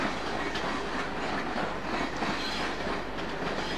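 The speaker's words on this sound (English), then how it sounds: "This train was unusual in that it included Mark III sleepers in the consist." A British train including Mark III sleeper cars rolls through London Euston, a steady loud rumble with rhythmic clickety-clack of wheels over rail joints and no voices.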